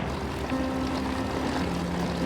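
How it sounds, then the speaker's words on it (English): A DC-4 propeller airliner's piston engines run with a steady, dense drone and a faint tonal hum, with engine number two acting up, heard continuously with no talk. "Engine number 2 still needs some tweaking."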